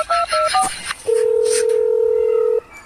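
Phone keypad tones beep as a number is dialed to call the doctor, with a few quick tone pairs followed by one long steady tone, loud and close.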